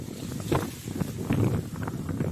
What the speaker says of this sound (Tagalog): lakas ng hangin dito, guys, sa bundok